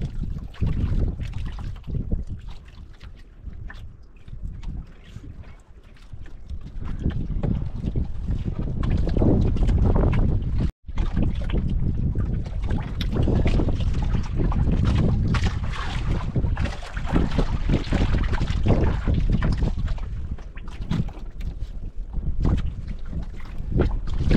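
A boat rumbles steadily across open water, with wind buffeting the microphone and a continuous wash of water noise throughout.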